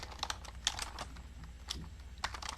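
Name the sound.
typing on a computer keyboard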